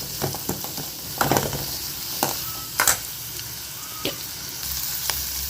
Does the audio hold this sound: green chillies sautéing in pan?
yes